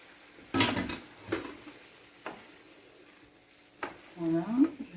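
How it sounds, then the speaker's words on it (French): Homemade ratatouille vegetables are stirred in a pot, with a few distinct scraping and clanking strokes of a utensil against the pot, spaced apart amid quiet, followed by a brief voice. "Je mélange tous mes légumes."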